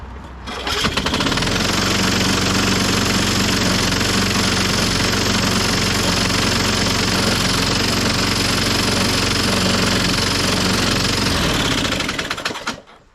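A 1998 Ariens 21-inch self-propelled lawn mower engine runs steadily for about ten seconds, loud and close, with a rough knocking rattle, then cuts out near the end; no talking.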